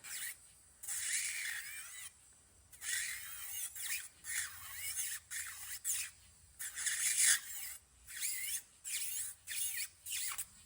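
An electric nail file with a sanding band gives a high, whirring grind in repeated short bursts separated by brief pauses, close to the microphone, with no talking.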